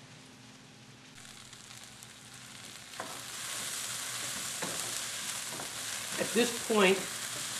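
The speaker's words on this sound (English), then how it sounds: "my aromatics, the carrots, the celery, and the onions, are just starting to get brown" Carrots, celery and onions browning in a pan for a ragù alla Bolognese, with a steady soft sizzle and a few sharper crackles near the end, while a voice speaks briefly over it.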